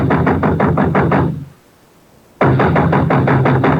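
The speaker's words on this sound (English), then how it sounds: "I was soon banging on a door there like a drummer playing Bob" Loud, rapid knocking on a door as a radio drama sound effect, a fast drum-like burst of raps, a second's pause, then another fast burst.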